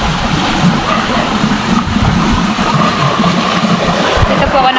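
Strong water flow from a running tap or pipe where cassava is being peeled, a loud, continuous rushing splash close by that holds steady the whole time.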